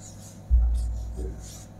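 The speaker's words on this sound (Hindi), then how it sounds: "पांचवा लिखते हैं" A teacher writes on a classroom board, making faint scratchy strokes over a low background hum.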